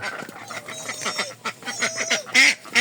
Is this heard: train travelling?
no